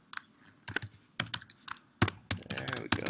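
Computer keyboard typing while text is added to a text box, irregular clusters of crisp key taps with short pauses between bursts, close and clear with no talk.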